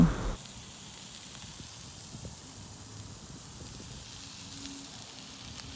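Marinated meat sizzles on an outdoor summer barbecue in Canada, a faint, steady hiss that runs unbroken after a brief louder moment at the start.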